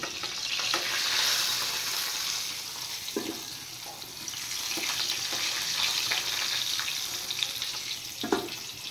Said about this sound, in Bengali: এবার আলুগুলো একটু লাল করে ফ্রাই করে নেব